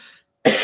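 A single sharp, loud cough bursts out close up after a moment of silence, with no talk.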